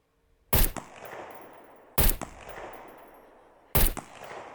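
Three gunshots sound in the video game SCUM, each a sharp, loud crack followed by a long echoing tail, spaced about one and a half seconds apart with no talking.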